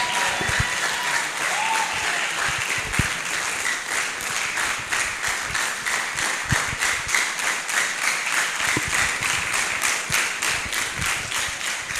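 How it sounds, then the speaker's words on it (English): Audience applause fills a hall as a faculty dean steps up to the podium at a university event. The clapping is sustained and dense for the whole stretch, with a few louder individual claps standing out near the front. "Let's keep on clapping as he mounts the podium."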